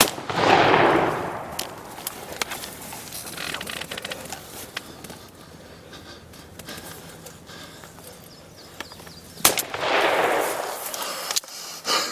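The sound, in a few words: shotgun firing at birds while hunting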